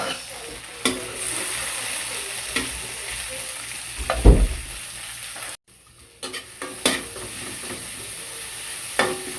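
Tomatoes sauté in a pan with onion and garlic, a steady close sizzle with occasional stirring scrapes and a louder clatter midway, then a brief break before the frying resumes.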